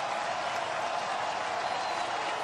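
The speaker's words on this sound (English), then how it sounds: "Crowd on their feet here at Dowdy-Ficklin Stadium" College football stadium crowd at Dowdy-Ficklin Stadium during East Carolina versus North Carolina A&T, a dense, steady roar of cheering and clapping after a big defensive tackle, continuous and loud with no clear breaks.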